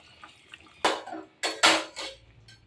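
Pabda fish go into a boiling mustard-poppy curry with fried potatoes, making a few sharp, close splashes and clanks of a utensil against the pot, with quiet gaps between them.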